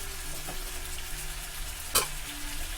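Spicy cabbage and mushrooms fry with soy sauce in a hot pan, giving a steady close sizzle with a few soft stirring clatters and one sharp clink near the end. No one speaks.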